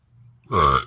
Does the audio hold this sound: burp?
yes